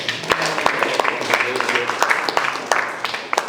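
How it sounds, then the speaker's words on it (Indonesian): An audience claps and applauds at an Islamic studies teacher-training session, a steady patter of many hands lasting a few seconds, fairly close and lively. "Masya Allah, kasih aplaus."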